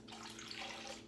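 Warm water for waffle batter pours steadily into a bowl, a close, continuous splashing rush lasting about a second with no voices.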